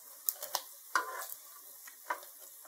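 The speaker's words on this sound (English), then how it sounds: "Delicious sizzling sound." Buffalo chicken wings browning in an air fryer give off a soft sizzle with a few light clicks and taps, close and quiet, with no talking.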